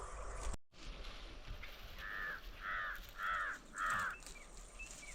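Crows caw in a rural farmyard as a dog chases them: four clear, harsh caws in steady succession, moderately near, over a faint background.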